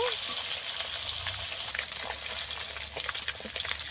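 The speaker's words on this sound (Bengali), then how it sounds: "এই মাছগুলো কিন্তু আমি বেশি লাল করে ভাজবো না, বেশি একটু ভেজে নেব।" Shol fish pieces frying in hot oil in a pan, a steady crackling sizzle with occasional bursts of spattering, close and moderately loud throughout.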